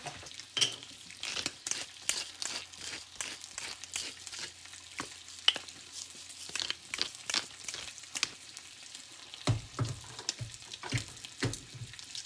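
Eggs and bacon frying in a pan on a home stove at heat level 4, a steady faint sizzle broken by frequent sharp pops and crackles, with no talk.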